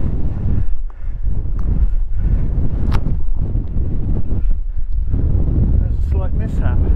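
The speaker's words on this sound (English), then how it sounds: "Does get a bit of wind" Strong wind buffeting a microphone on Lundy Island's airfield runway, a loud continuous rushing roar with gusty swells throughout.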